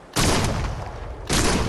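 Two loud, close gunshot blasts from a shotgun at a shooting range in the VR game Crossfire: Sierra Squad, the first ringing out for about a second before the second hits, with no talking.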